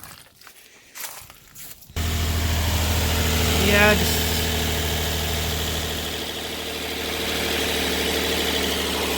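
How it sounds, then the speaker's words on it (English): A Nissan 350Z engine fires on a cold start after a few words and quiet shuffling, then settles into a loud, steady idle with a low rumble that swells slightly midway. "Let me start it up and make sure it's idling right."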